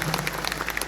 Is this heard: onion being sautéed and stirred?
no